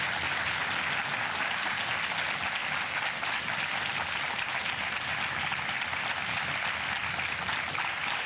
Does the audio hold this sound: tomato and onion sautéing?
no